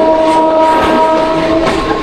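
Indian Railways Katwa–Barddhaman passenger train pulling out of Balgona station, a loud close rumble with steady tonal hum and rolling rattle throughout, no speech.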